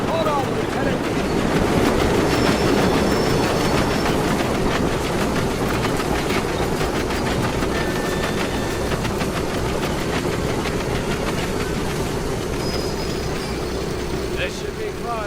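A train runs on rails in the Medal of Honor Above and Beyond video game, a loud, unbroken rumble with rhythmic wheel clatter and brief high squeals carrying through the whole stretch.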